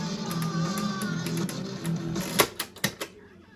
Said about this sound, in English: there's a clicking noise. I don't know if you can hear it in the background.